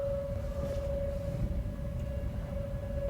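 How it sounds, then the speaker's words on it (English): Tornado warning siren wailing as a loud, steady tone through the whole stretch, with a low rumble of distant noise underneath and no talk. "there's a loud tornado thing going"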